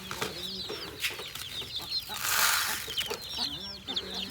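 Chickens on a small farm flock of about 400 birds cluck repeatedly and close by, with sharp chirps from other birds scattered throughout a busy, steady barnyard din.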